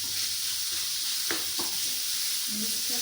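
Chopped chicken tipped into a hot pan for a chicken lasagna, giving a steady broad sizzle with a couple of sharp clatters and faint stirring sounds, close by and moderately loud with no talking.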